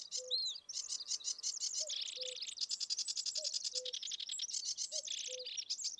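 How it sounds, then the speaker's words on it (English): Birds chirp and tweet continuously in a Russian Fishing 4 game scene, dense overlapping high calls filling the whole stretch at steady loudness, with a faint low repeating tone beneath and no talking. "Sounds like we're like literally just standing in a bird's nest right now."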